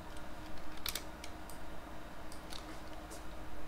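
The Enter key struck on a computer keyboard during Photoshop work: a few crisp, quiet key clicks spaced out over a few seconds, close to the mic, with soft background hum.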